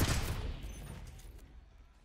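A loud burst of video game gunfire hits at the start, then its echo and rumble slowly fade away over the next couple of seconds.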